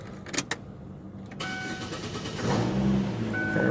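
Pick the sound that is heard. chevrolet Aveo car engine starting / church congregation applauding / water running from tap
chevrolet Aveo car engine starting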